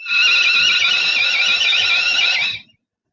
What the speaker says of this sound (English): or a whistle.